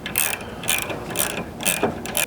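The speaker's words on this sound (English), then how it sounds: "I'll grab a couple wrenches, in my case here, 1/2 inch, and tighten this up" A wrench ratchets in quick repeated clicking bursts while tightening a bolt on a ditch light bracket on a 4th-generation Toyota Tacoma, close and loud with no talk.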